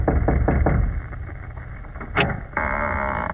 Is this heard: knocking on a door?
yes